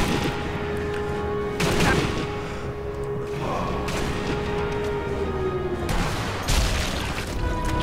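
Heavy sniper rifle shots in Sniper Elite V2, a few loud booming reports spaced several seconds apart over a low ambient game rumble.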